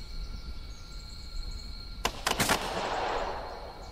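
A sudden cluster of three or four sharp shots crackles out in the Second Front war game, followed by a fading wash of noise over a low, steady background hum.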